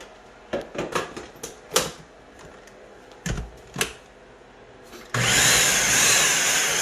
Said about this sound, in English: Everything is ready for the Ninja Chopper.